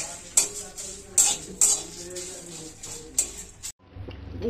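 Whole spices (mace, nutmeg, coriander and cumin seeds) dry roast in an ungreased pan before grinding. A utensil stirs them with a few sharp metallic taps and soft scraping over a faint crackle, ending abruptly, with no voices.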